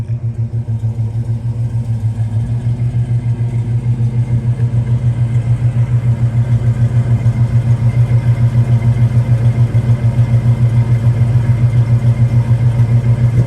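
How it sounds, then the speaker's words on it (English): A 1967 Chevrolet Chevelle V8 engine idles steadily with a deep, throbbing rumble, loud and close, holding an even rhythm throughout with no voices. "Let's take a listen to it and we'll go for a ride."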